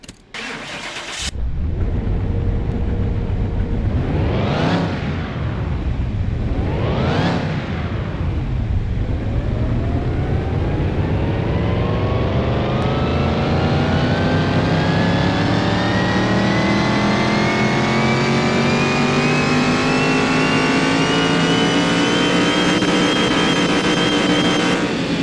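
A car engine on a dyno in Car Mechanic Simulator 2021 starts, blips twice, then revs steadily upward through a long, loud continuous pull with rising pitch, heard alone without talk.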